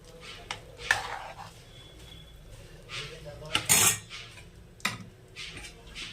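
A metal lid clinks down onto a pot of simmering vegetables and dal on a gas stove, with a few scattered sharp clanks and one louder clatter amid quiet kitchen background.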